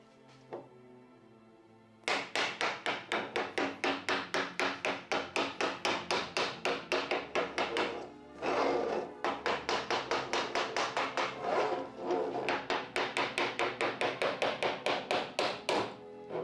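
Rapid, steady hammer taps strike the glass in a door under restoration, dozens of crisp, evenly paced knocks running on after a quiet start, with a brief denser burst midway.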